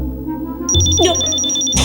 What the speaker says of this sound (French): Nos détecteurs ne laissent jamais rien passer sans une retentissante alarme